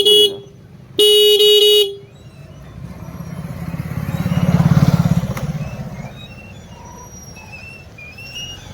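A newly replaced vehicle horn gives a short honk, then a longer one about a second later, loud and close. A motor then swells past and fades away.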